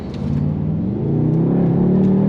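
Mercedes-AMG GT63 S E with its V8 pulling hard under throttle, a loud continuous engine drone with harmonics climbing steadily in pitch as it accelerates, close and steady without pauses.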